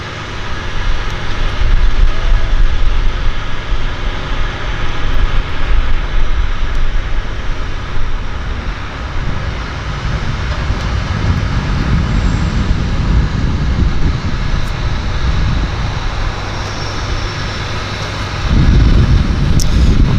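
A Twin Otter seaplane coming in to land on the water at Vancouver Harbour, its turboprop engines a steady, loud drone that swells in low rumble toward the end, with no talk over it.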